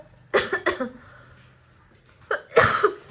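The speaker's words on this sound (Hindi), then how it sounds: "खांसी भी मेरी साथ में चलती रहती है।" A person coughs up close: a quick double cough, a pause, then two more harsh coughs.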